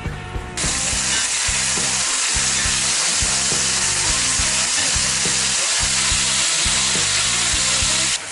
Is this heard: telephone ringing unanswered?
no